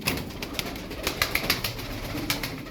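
Pigeons in a loft, many of them tumbling fliers, give off soft repeated coos and rustles close by, with light flapping and scattered clicks over a steady background hum.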